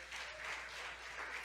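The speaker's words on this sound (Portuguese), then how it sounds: "Você pode aplaudir o Senhor." Soft, steady applause from a church congregation during a worship service fills the brief moment, even and continuous with no voices standing out.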